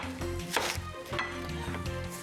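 A knife slices a peeled onion into half-inch-thick rings, making a quick series of firm, rhythmic cuts on a board at close range.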